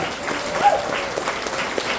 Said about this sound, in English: Once again, a round of applause for Mr. Keenan Zach on the bass, Steve Serrano on the guitar.